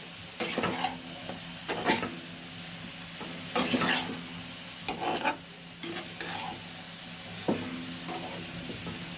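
A spatula stirs frying vegetables in a wok (kadai) in several bursts of scraping and tossing, with a soft sizzle carrying on between strokes.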